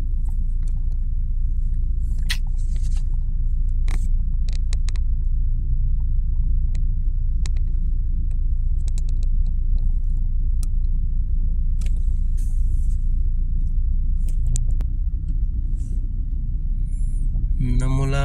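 Cars creeping in a long traffic jam on an elevated skyway, with a continuous heavy low rumble of engines and tires, occasional brief clicks and knocks, and a rising whine near the end.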